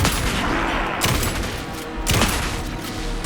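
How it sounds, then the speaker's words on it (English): Gunfire in the video game Alan Wake 2, dense rapid bursts of shots in quick succession with loud cracks near the one- and two-second marks, filling the whole short stretch without speech. "Anderson, pin him down with gunfire for me to get the light on him."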